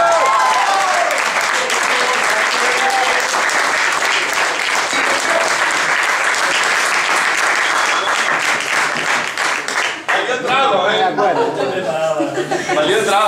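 Loud, sustained applause from a large audience fills the space, with scattered laughter and crowd chatter breaking through near the end.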